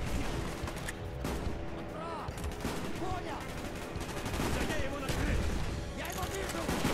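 Dense gunfire rattles almost continuously in the Call of Duty: Black Ops video game, with bursts of automatic weapons and heavy blasts layered under someone talking over the action.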